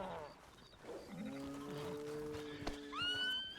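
A horse in a farming and ranching roleplay video game gives several whinnies, rising to a shrill high neigh near the end, over a faint background with a sharp click partway through.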